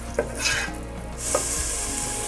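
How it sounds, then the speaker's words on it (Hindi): Finely chopped onion, about half a medium one, sautéing in a pan, giving a steady close sizzle with a brief stir partway through. "हम डालेंगे बारीक बारीक कटा हुआ प्याज, तकरीबन हाफ प्याज है, मैंने मीडियम साइज़ का लिया था। इसको सौते होने देंगे।"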